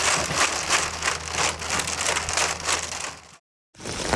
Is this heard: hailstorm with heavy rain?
yes